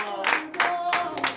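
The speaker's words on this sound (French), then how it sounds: "donner de vives acclamations à notre Seigneur Jésus" Church congregation clapping in rhythmic bursts during a morning prayer service, several short loud rounds of hand claps with brief gaps between them.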